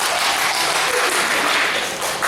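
Audience applause filling the room in a dense, steady wash of clapping from a crowd congratulating a neighbour, sustained throughout with no break.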